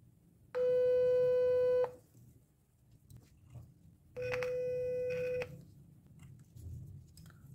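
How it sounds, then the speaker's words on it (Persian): A 500 Hz sine wave from a function generator plays through a loudspeaker as two steady, pure tones, each about a second and a half long, separated by a short gap over low room noise. "من به کمک فانکشن جنراتور یک سیگنال 500 هرتز سینوسی رو میخوام وارد این بلندگوها کنم"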